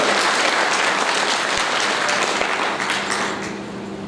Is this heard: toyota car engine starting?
no